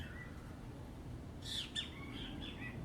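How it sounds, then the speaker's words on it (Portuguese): A small hawk gives a brief, faint screaming call over steady outdoor background noise, with other birds answering in short chirps just after. "Acabou de passar, acho que um gaviãozinho aqui gritando."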